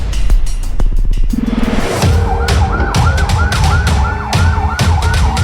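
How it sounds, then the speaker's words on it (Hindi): An ambulance siren wails loudly and repeatedly close by at a hospital, its rising and falling tone cycling steadily over street noise. "अस्पताल में तीसरी एम्बुलेंस आती है"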